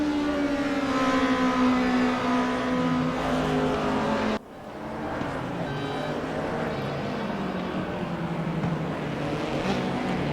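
BMW race cars screaming around the Suzuka circuit in a racing video game, a loud sustained high-revving engine drone with shifting pitch that cuts abruptly midway to another car's steady roar.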